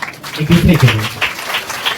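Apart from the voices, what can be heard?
audience applause at church opening ceremony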